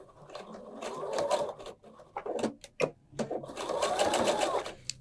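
Sewing machine stitching fabric binding, running in several short bursts of rapid mechanical whirring and clatter broken by brief pauses and handling clicks, fairly close and moderately quiet.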